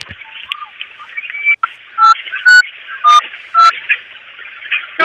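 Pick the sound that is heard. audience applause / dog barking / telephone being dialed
telephone being dialed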